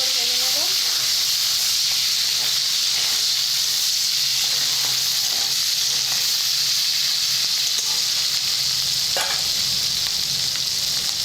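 Onions frying in hot oil while making a jackfruit curry, a dense, constant sizzle close and loud throughout, with a few stirring scrapes and a voice speaking briefly.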